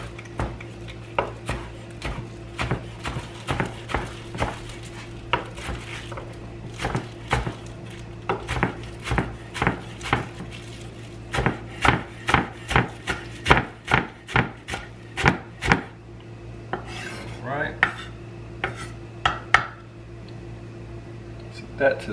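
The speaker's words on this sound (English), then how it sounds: "Let's start off chopping up some of these scallions." A knife chops scallions on a cutting board in quick, steady bursts of sharp close taps with brief pauses. A low kitchen hum runs underneath, and a voice speaks at times over the chopping.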